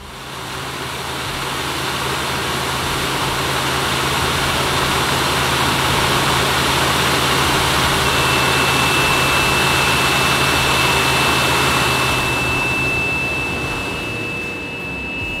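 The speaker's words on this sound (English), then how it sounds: "get this truck hooked up to the dyno and start doing some testing" A 6.7L Powerstroke diesel engine in a 2011+ Ford truck runs on a dyno with a steady, loud, close droning roar that holds throughout and fades slightly near the end.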